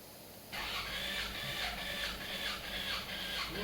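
A Toyota RAV4 engine with a knocking fault cranks on the starter during a compression test, a steady rhythmic whirring drone that begins abruptly and continues evenly, fairly faint and without talk.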